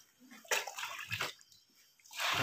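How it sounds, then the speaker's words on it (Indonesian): Water being poured into a concentrated livestock feed mix and stirred, heard as close sloshing and splashing in a few irregular bursts, ending in a heavier pour. "Nah, tambahkan air. Tambahkan air, aduk-aduk."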